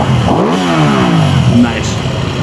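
An Aprilia Tuono 660 twin-cylinder motorcycle engine starts close by and revs, its pitch climbing and then falling back across a couple of seconds of loud, steady engine noise.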